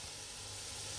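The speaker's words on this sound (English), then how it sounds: "we hear the sizzling happening" Duck pieces frying in a hot pan, a steady, faint, broadband sizzle and hiss running continuously with no talk.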